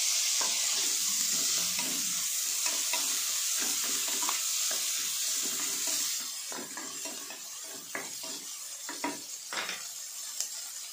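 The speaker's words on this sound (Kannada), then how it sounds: "ನೋಡಿ ಈರುಳ್ಳಿ ಸ್ವಲ್ಪ ಫ್ರೈ ಆಗ್ತಾಯಿದೆ." Chopped onion and a tomato fry in a pan for an aloo palya potato dish, giving a steady close sizzle with occasional scrapes and taps of a stirring spoon. No one speaks.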